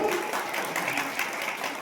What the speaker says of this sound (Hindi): तालियां तो भी बजा रहे थे